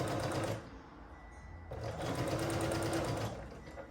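A domestic sewing machine stitches quilt rows together at the end of each row, running in steady whirring bursts with a brief pause before resuming loudly and continuously.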